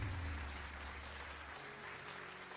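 Steady applause sound effect fills the short stretch at a constant moderate level, a dense wash of clapping with no voices on top.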